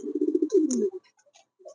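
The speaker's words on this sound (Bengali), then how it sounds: "দুটি কবুতর একদম সেম কালার" Low, rolling coos from a pigeon, a couple of soft throaty phrases close by, then quieter faint chirps trailing off.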